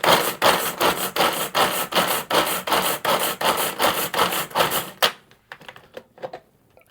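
Ginger knobs are chopped in a small manual pull-cord chopper, giving a rapid series of about a dozen loud, rasping whirring pulls in steady rhythm, close up, then a few fainter rattles as it stops.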